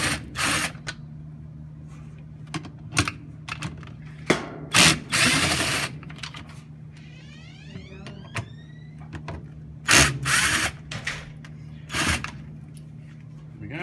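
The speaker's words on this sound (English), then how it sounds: "So here's the socket, and it's actually a 5/16 socket, and we'll just take this straight out." A 5/16 socket driver removes screws from the pump of a Maytag Centennial Whirlpool washing machine, giving several short sharp whirring bursts and ratcheting clicks in a quiet room, with a brief rising whine in between.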